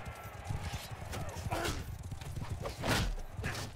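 Impact and hoof-like clatter from a horse being struck in the medieval combat game Mount & Blade II: Bannerlord, busy overlapping thuds and clip-clop over steady background game noise with talk mixed in.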